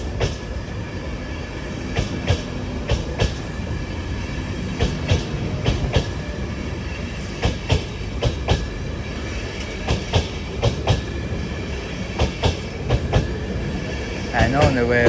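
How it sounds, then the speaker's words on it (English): A class 331 electric train pulls out of Doncaster station toward Leeds, with rhythmic clickety-clack wheel beats over a low rumble that builds and ends in a faint squeal, heard from the platform under occasional talk. "That's 331112 sets up for a departure to Leeds."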